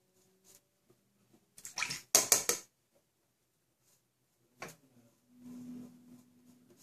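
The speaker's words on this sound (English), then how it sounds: "I always rinse off the blade in hot water." A razor blade is rinsed under hot running water during a shave. There are two short bursts of splashing water, a brief tap, and then a quieter trickle, separated by near silence.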